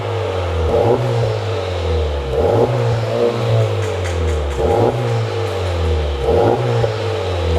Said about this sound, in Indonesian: Oke, kita dengar sekarang suaranya yuk. Digas-gas kayak gimana nih.